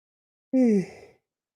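A single drawn-out yawn from a person, close and fairly loud, falling in pitch and trailing off into a breathy exhale with nothing else around it.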